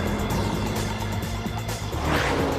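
A Porsche 911 Turbo engine drones steadily while driving, a continuous low rumble with a brief swelling whoosh near the end, no talk over it.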